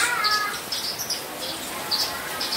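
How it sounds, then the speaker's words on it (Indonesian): A Javan bush lark (branjangan) sings in short, high, bright chirps repeated several times at irregular intervals, fairly close, over a soft steady background hiss. "Burung beranjangan selain menarik ketika bersuara atau bernyanyi dengan kicauannya yang merdu"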